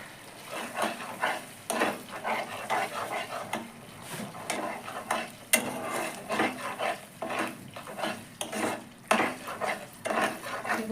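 Masala sautéing in a pan for chicken malai kofta curry after garam masala powder and kasuri methi go in, with steady sizzling, repeated scraping stirs of a spatula and occasional pot clinks, close and moderately loud.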